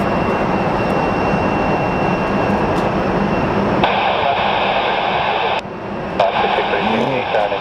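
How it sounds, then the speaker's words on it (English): Alaska Air plane in One World livery taxiing at Phoenix Sky Harbor International Airport, a continuous loud engine roar and whine with steady broadband rush that shifts partway through. "We do have the One World livery Alaska Air taxiing past us"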